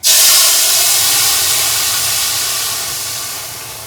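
Shukto hits hot tempering in a pan and sizzles with a sudden loud hiss that holds strong and then slowly fades over a few seconds, alone without talk.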